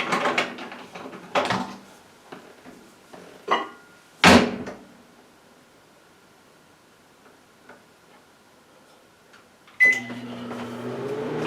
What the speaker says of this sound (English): I'm going to put the honey in the microwave for 10 seconds or so.